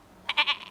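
A person's voice imitates a baby goat's bleat: a close, nasal call of three quick wavering pulses with an upward lilt, heard alone.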